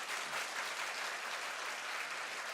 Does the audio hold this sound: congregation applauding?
yes